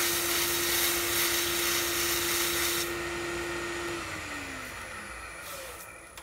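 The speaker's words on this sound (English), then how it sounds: "I'm going to take some walnut shavings and burnish this a little bit with those." A wood lathe spins a walnut-shaving-burnished napkin ring with a steady, loud whirring hum and a constant tone that drops slightly near the end, the noise easing a little toward the close with no talk.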